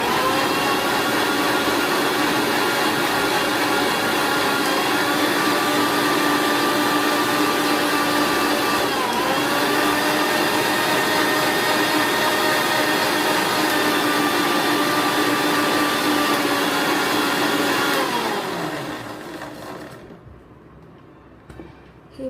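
Muskmelon and milk whirring in a kitchen mixer, a loud steady motor drone for about eighteen seconds that then winds down and stops, leaving near silence; no talking.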